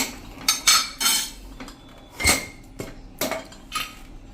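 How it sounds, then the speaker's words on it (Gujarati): Metal kitchen clatter as a pressure cooker is opened after several whistles: a series of close, sharp clanks and scrapes of the lid and vessel, irregularly spaced, with no talking. "આપણે કુકર પણ ખોલીને જોઈ લઈએ"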